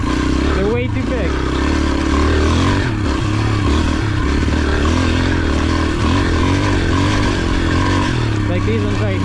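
A pit bike rides over big sand dune whoops, its small engine buzzing and revving loudly and steadily up close, with jolting clatter from the undersized suspension and wind noise throughout.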